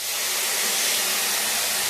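Water splashed into a hot kadai holding sugar for homemade guava jam gives a steady, loud broadband hiss and steam rush that holds even for about two seconds, with no voices.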